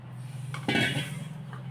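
A metal cooking pot picked up and set down for making black tea, a single close clank and short rattle over a low steady hum, faint clinks after.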